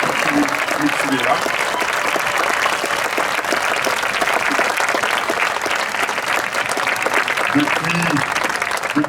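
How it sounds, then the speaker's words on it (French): An audience at the Santo-Estello Félibrige congress in Arles applauds Adeline Bascol-Bedin, with sustained and lively clapping throughout while voices speak over it. "Oui, on peut l'applaudir parce qu'elle est là."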